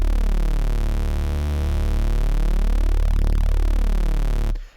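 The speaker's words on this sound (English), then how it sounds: "so now we've got proper Reese phase type thing going on" A Reese bass patch built in Ableton Operator from detuned saw waves drones loudly and continuously, its sweeping phasing shifting slowly across the sustained tone before it cuts off abruptly near the end.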